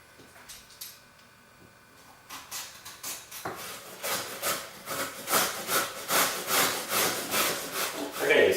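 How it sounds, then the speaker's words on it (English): Green papaya being shredded on a cheese grater, a quiet start building from about 2 seconds into steady, rhythmic rasping strokes that grow louder and more regular, one scrape after another, close up with no talk. "the cheese grater was far easier than trying to chop it with a knife"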